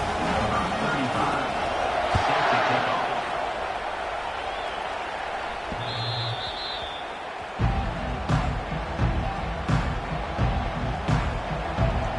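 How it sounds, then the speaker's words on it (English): In a college football video game, a stadium crowd roars as a steady, distant wash of noise that swells at the start and again later, layered beneath ongoing play-by-play commentary. "This crowd going to try to make life miserable for these guys."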